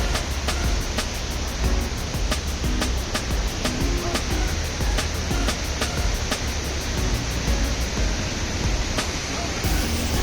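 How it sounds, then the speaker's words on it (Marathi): A steady, loud roar of a rushing waterfall fills the whole stretch, constant and close, with faint rhythmic ticking above it. "आवाज थोडा तुम्हाला कमी येईल कारण पाण्याचा आवाज भरपूर आहे इथे"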